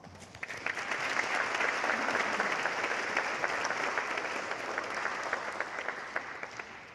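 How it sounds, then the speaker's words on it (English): Parents and students at a high school chamber choir concert applaud steadily, a dense, sustained clapping from a large audience in a hall that fills the whole stretch. "give yourselves a round of applause"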